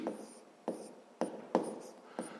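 Pen strokes on paper while a math exercise is worked out, five short scratchy bursts spaced about half a second apart, close and fairly quiet with no speech.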